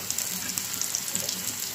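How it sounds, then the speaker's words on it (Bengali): Spices and onion frying in a pan, a steady soft hiss of sizzling oil with faint crackles throughout, close and even, with no voices. "তো মশলাটা একটু ভাজা হোক। আর এদিক দিয়ে আমার পেঁয়াজটাও ভাজা হয়ে গেছে।"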